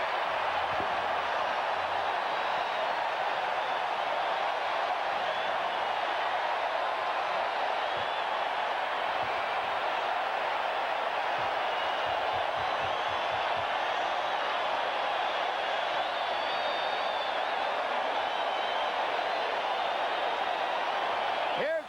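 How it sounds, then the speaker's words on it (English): A ballpark crowd at a Reds home game against the Dodgers roars steadily after the Reds take a 3-2 lead, a broad, sustained wash of cheering that holds at full strength from start to finish. "And listen to the crowd."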